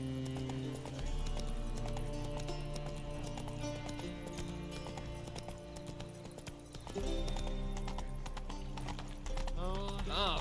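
Roach, Geralt's horse in The Witcher 3, clip-clopping along at a steady walking gait, hoofbeats up close against a backdrop of game music and ambience, with a brief whinny-like sound near the end.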